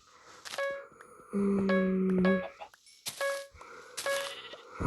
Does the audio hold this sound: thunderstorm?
no